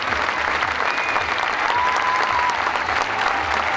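Dense, steady applause from a standing audience at a Uruguayan carnival choir performance in Montevideo, a loud continuous roar of clapping throughout.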